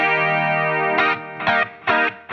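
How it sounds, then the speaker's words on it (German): An electric guitar on its humbucker pickup plays through a Fractal FM3 with delay, a sustained bright distorted chord followed by three short punchy stabs whose tails ring briefly, no voices. "das ist ja der Humbucker, der ist so ein bisschen zackiger irgendwie"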